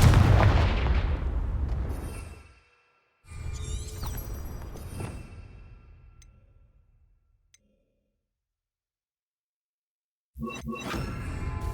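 Fire spell explosions from Confringo in Hogwarts Legacy come as three separate loud blasts. Each one bursts and then rolls away into a fading rumble, with near silence between them.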